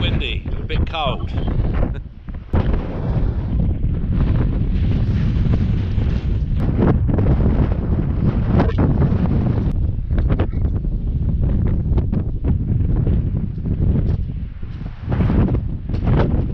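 Strong gusts buffet the microphone continuously, a loud low rumbling roar with brief lulls, while voices speak faintly underneath.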